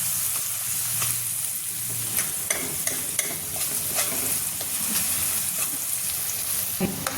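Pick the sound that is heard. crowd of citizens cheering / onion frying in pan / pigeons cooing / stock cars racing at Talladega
onion frying in pan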